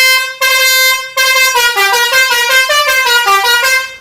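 Basuri India brand horn driven by a Jet Inoue compressor, blaring loud and close: one long blast, a pause, then a rapid melodic sequence of changing musical tones, with no talking over it.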